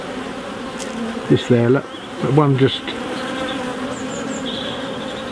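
Honey bees buzz steadily throughout during a hive inspection with emerging worker brood on the frames, a close, continuous hum with a voice speaking briefly over it.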